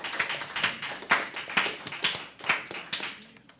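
Audience applause at a junior science school quiz: sparse, distinct hand claps in an uneven rhythm, fairly close and moderately loud, with no talking over them.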